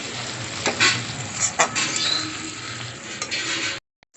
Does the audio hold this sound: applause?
no